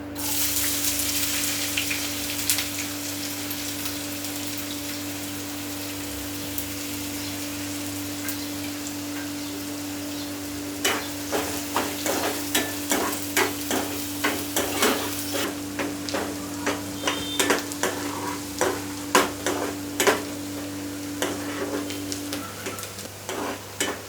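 Onions fry in a pan for shuka chicken, a constant close sizzle and hiss under a steady hum. In the second half it turns into a run of rapid crackling pops and spatters.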